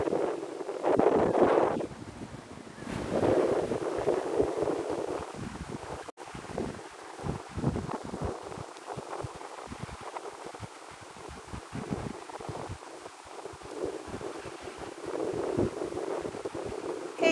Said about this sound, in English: Now the wind is more intense.